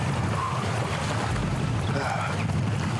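Strong wind at Klaserie Dam, rushing and buffeting steadily against the microphone as a dense, continuous roar with low gusty rumbles throughout.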